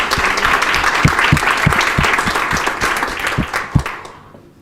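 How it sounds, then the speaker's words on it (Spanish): A room full of attendees claps loudly and steadily at the close of a data-quality workshop, the applause thinning out and fading away at the end. "Un aplauso."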